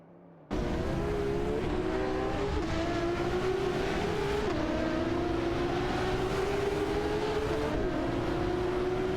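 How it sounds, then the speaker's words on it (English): Video game race cars, an Aston Martin Vantage and a Porsche 911 GT3, roar in after a sudden start, their engine drone held steady and loud with pitch rising and stepping down at gear shifts. "driving an Aston Martin Vantage Ammer against the Porsche 911-901 GT3"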